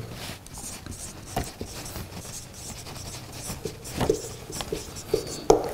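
Marker or chalk scratches across a classroom board in short strokes and taps during a Turkish lesson, close and moderately loud, with faint room noise and no talking.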